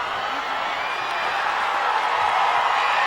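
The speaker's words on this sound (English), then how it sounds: "if you can hear the crowd here at Aloha Stadium, it's just rumbling" Crowd roaring at a 1995 JV championship high school football game in Aloha Stadium, a broad continuous rumble of cheering and whoops, steady and fairly loud with no clear pauses.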